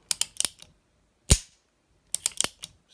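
Mechanical clicks of a Heritage Rough Rider single-action .22 revolver being handled and its hammer cocked: a quick cluster of sharp close clicks, one louder click, then another rapid cluster, with no talking.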